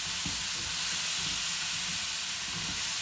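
Curry powder, chili flakes and dry methi sizzling and being stirred in a hot pan, a steady broadband hiss with a few soft scraping knocks as the spices are mixed.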